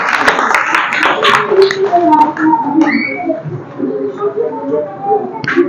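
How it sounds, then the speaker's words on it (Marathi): Primary school students in a classroom clap together for a classmate named Kartik, a brief scattered round of hand claps at the start that tapers off under chatter and voices. "कार्तिक साठी टाळ्या वाजवायच्या आहेत."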